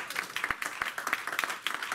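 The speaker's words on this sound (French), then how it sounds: "Donnons une acclamation au Seigneur." A church congregation at a French-language service bursts into rapid clapping, many hands overlapping in a lively, fairly close round of applause with voices mixed in underneath.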